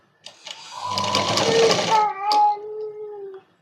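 A sewing machine stitches a kids' night dress in a short, close, whirring burst of a few seconds, with a whining tonal note as it slows to a stop.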